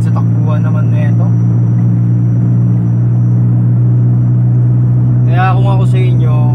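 A 1993 Honda Civic ESi LX with a manual gearbox and PH15 engine drives along, its low steady engine rumble and road drone continuous under someone talking near the start and end.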